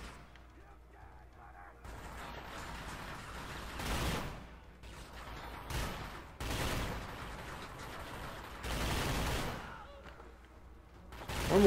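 Gunfire in The Chronicles of Riddick: Escape from Butcher Bay from a damaged gun, with loud bursts of shots in several separate volleys, the last one rising at the end.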